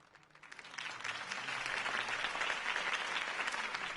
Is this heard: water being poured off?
no